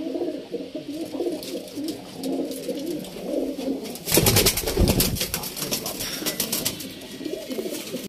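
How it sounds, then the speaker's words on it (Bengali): Pigeons in a small loft coo in a low, throbbing chorus close by, broken midway by a loud burst of wing flapping and rustling. "ছোট জায়গায় পায়রা।"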